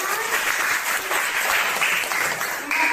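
A classroom of students claps together in a brief, busy burst of hand claps that holds steady for about three seconds without any talking.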